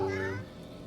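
A skeletal cat in the video game Divinity: Original Sin gives a short, clear meow that trails off quickly, heard up close and alone.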